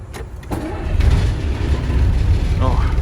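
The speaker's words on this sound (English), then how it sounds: "For a 36-year-old 11-litre diesel, it just sounds pretty good." An old 36-year-old 11-litre diesel bus engine cranks and fires straight up, settling into a loud, rough idle that fills the clip with steady low rumble.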